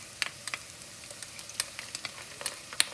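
Chopped onion and ginger garlic paste sauté in ghee in a pan with jeera, giving a soft, steady sizzle and frying crackle with scattered small pops and stirring clicks, fairly quiet and with no talk.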